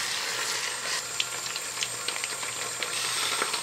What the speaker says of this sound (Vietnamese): Dầu nóng thì mình cho thịt gà vào chiên.